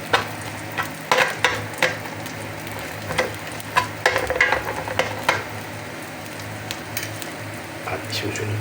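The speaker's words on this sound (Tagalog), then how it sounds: "Kailan po natin maging brown po yung ating bawang." Garlic frying in a pan while being stirred for egg fried rice, a soft steady sizzle broken by repeated scraping stirs, close and moderately loud.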